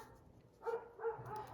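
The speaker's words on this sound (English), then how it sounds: "Sorry for the dog barking." A dog barks a few times outdoors, heard faint and distant through an open window of a craft room, with short muffled woofs spaced about a third of a second apart.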